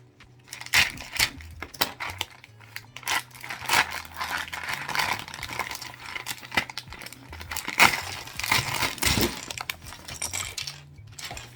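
A vacuum-sealed HyperX keycap package is cut open with a cheap knife, giving irregular crinkling plastic, sharp clicks and clinks of loose keycaps shifting, close and moderately loud throughout.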